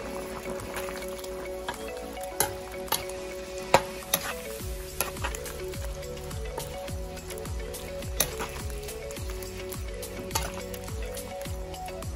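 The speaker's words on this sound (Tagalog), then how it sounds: "Haluin natin ulit." Menudo stirs in a frying pan with a steady, close sizzle and repeated soft scraping and squishing strokes of the spoon throughout, over a faint hum.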